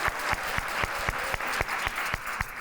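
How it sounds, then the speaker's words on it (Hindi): A studio audience at a comedy talk show claps in a steady, rhythmic beat, with sharp, evenly spaced hand claps close up over a continuous wash of applause. "तालियां हो जाए।"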